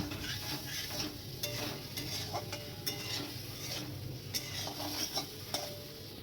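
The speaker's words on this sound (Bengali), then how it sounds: "আবার একটু কষিয়ে নেব ভালো করে নাড়াচাড়া করে নেব" Ginger, cumin and coriander paste frying in a pan while being stirred, a constant sizzle broken by repeated sharp scrapes and clinks of a utensil against the pan in an uneven rhythm.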